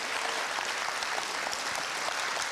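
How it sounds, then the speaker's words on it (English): A festival audience at Series Mania 2023 claps steadily for a journalist, a dense, even applause that carries at full strength throughout with no voices over it. "qui mérite vos applaudissements"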